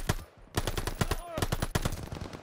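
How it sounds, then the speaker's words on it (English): Rapid machine-gun fire in a Call of Duty Vanguard campaign battle, close and loud rhythmic bursts of shots with brief gaps between volleys. "Open fire! Take them down!"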